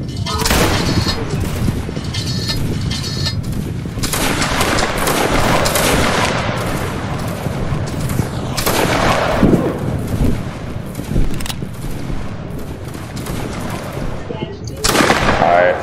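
Saxon fusilier line in a Napoleonic line-battle video game firing musket volleys, a dense crackle of overlapping shots rolling on continuously, with sharper bursts near the start and end and voices mixed in.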